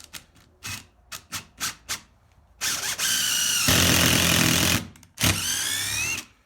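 A DeWALT DCF887 impact driver drives a screw, with a string of short sharp clicks giving way to loud sustained bursts of hammering whir, a brief pause, then another close, loud burst.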